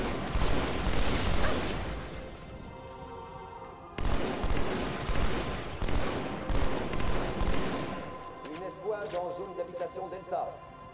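Dense gunfire in Halo 2 Anniversary on Xbox One, with loud rapid bursts running almost continuously, a brief break, then more firing that thins into scattered shots near the end.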